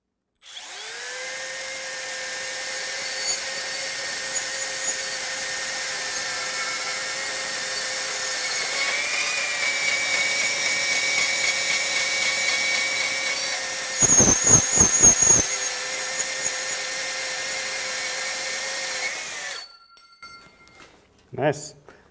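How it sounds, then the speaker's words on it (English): A Makita 18V LXT compact cordless bandsaw cuts through 2-inch square steel tubing with 1/16-inch walls, a loud, close, steady whining hum with a rising metallic screech before it stops abruptly; people talk nearby. "Cut straight through. I think this is a 2-inch by 2-inch square tubing."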